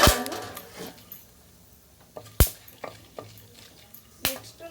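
Tempering ingredients crackling in hot oil, a quiet bed of sizzle punctuated by scattered sharp pops and spits, a few loud bursts standing out close by.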